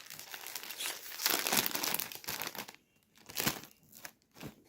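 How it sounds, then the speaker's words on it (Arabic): A plastic snack bag is torn open and crinkled up close, giving a few bursts of loud crackling and rustling with short quiet gaps between them. "نفتح الكيس رقم 6"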